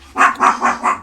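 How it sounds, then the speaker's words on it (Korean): Four quick, loud barks from a house dog burst out in an even, rapid rhythm, close to the microphone and heard alone. "제가 방송할 때 강아지 짖는 소리가 안 들어가는 날이 없군요"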